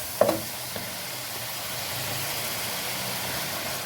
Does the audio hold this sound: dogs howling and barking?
no